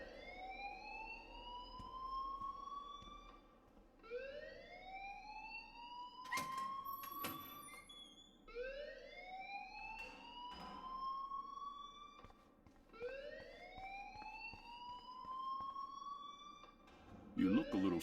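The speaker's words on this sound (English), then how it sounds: "please turn off that alarm since that's your job" A repeating alarm siren in the video game Life is Strange, rising whoops in steady cycles every few seconds, loud and continuous, with brief clanks and a short burst of other noise near the end.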